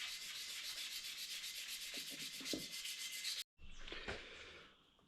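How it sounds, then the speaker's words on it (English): Wet and dry abrasive paper rubbed by hand over cast BSA Bantam motorcycle triple clamps, a steady close scratchy rasp that cuts off abruptly, then a few fainter scrapes. "rubbing wet and dry on this"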